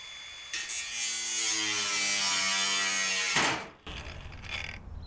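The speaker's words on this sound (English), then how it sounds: "what AFT does is shut off the motor if the mounted wheel, brush, blade, or whatever jams or is otherwise forced to stop" A Makita cordless brushless angle grinder runs at a loud, steady high whine, then jams and its AFT cuts the motor, the pitch dropping abruptly into quiet before faint handling noises follow.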